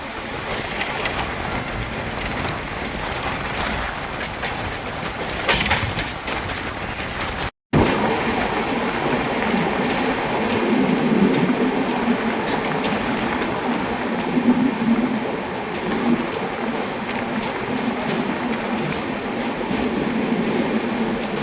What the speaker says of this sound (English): and now Mangalore Superfast Express speeding up.